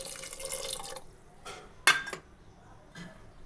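Water poured into a pan of drumstick (sajne data) curry after salt is added, heard as brief splashing and dripping pours with a sharp clink of a vessel against the pan, close and fairly quiet.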